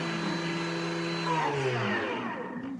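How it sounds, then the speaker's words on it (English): A Thermomix food processor whirs at high speed while whisking soft cheese, a loud steady motor whine close by that slowly drops in pitch as it winds down, with no talk. "I'm just going to do a high speed, So speed whisk it 10."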